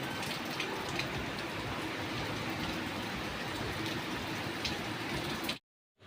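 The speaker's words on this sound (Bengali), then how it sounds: "খেয়ে দিয়ে উঠে দেখে আরো জোরে নেমেছে বৃষ্টি" Heavy rain pouring down steadily, a dense even hiss of drops on surfaces holding at constant loudness before cutting off abruptly near the end.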